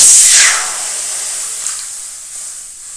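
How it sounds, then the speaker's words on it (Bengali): Water poured into a hot wok set on a gas stove, a loud hissing spray that bursts at first and then settles into a steady, softer steaming sizzle, close up with no talk. "এখানে আমি গ্যাসে কড়াই বসিয়েছি। কড়াইয়ে আমি দিচ্ছি জল"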